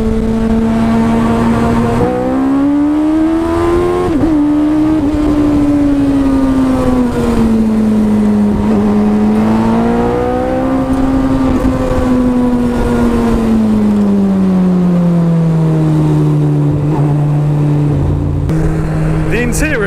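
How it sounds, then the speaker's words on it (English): A sports car's Hayabusa engine, revving to 11,000 RPM, drones loudly and steadily, its pitch rising and falling as it revs, with a voice talking over it at times. "it does sound significantly different to a standard car engine, as you can hear"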